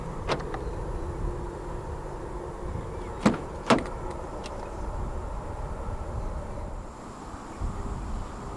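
The side mirrors of a 2023 Hyundai Staria 2.2 CRDi fold out automatically after unlocking, giving two short mechanical clicks a moment apart over a steady low hum of background noise.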